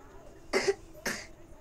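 A patient gives two short, sharp coughs close by during a doctor's examination, with a brief pause between them.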